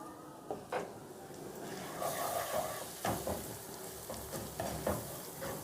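Potatoes and radish pods tossed with salt, red chili and turmeric in a pan, a spoon scraping and clinking in irregular strokes over a low sizzle, close and moderately loud with no talk.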